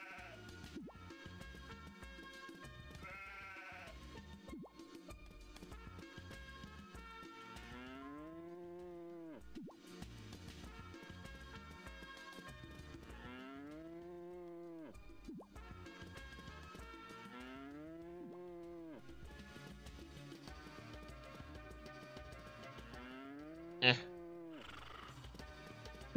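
Farm animals in Harvest Moon: Magical Melody low and moo in drawn-out, wavering calls several times over a soft game melody, with a short sharp click near the end.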